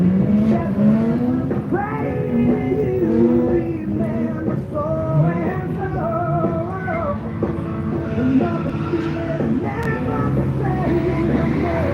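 Ford Falcon race cars drift around a new track at Oakburn Park in NSW, Australia, their engines rising and falling in layered whining tones while tyres squeal continuously, loud and close.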